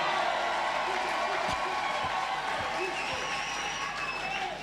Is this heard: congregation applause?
yes